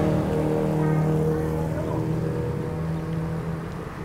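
Idling traffic backed up in front of a gate in Chiang Mai, Thailand: a steady, loud low engine rumble with a droning hum that continues throughout, no voices.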